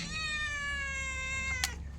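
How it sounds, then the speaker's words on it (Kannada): A house cat meows loudly near a kitchen where fish is being cleaned, one long drawn-out wailing call followed by a brief sharp noise at the end, with steady low background hum. "ಬೆಕ್ಕಿನ ಅವಸ್ಥೆ ನೋಡಿ. ಅದೊಂದು ಬೊಬ್ಬೆ ಹಾಕೋದು."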